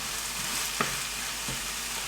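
Shrimp fry in a pan with a steady, fairly quiet sizzle that stays even throughout, broken by a couple of faint clicks and no voices.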